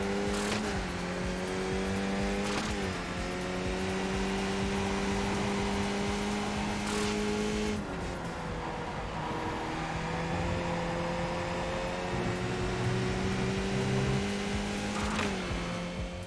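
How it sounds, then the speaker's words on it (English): A racing simulator car engine drones steadily and shifts through gears, each shift marked by a sharp drop in pitch along with a short confirmation tone, repeating several times over a continuous, moderately quiet engine note. "These two toggles gives you the option to hear confirmation sounds when you have successfully up or downshifted gears in your car."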